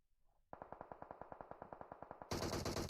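Rapid gunfire from a video game scrim match, a steady burst of about fifteen evenly spaced shots after a brief quiet start, then a loud dense wash of noise at the end; no talking.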